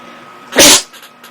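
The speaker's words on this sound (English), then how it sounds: "Sorry, I sneezed there." One sharp, loud human sneeze, a short explosive burst lasting about a quarter second over quiet game background hum.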